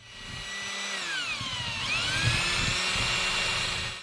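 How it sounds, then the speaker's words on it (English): A power drill whines as it bores through brass, its pitch dipping and rising under load in one continuous, close and fairly loud run of about four seconds. "just gonna real quick drill a hole through here"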